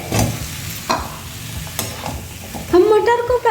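Boiled potatoes stirred into peas frying in masala in a pan, with scraping stirs and a steady sizzle that swells into a loud, close crackle near the end.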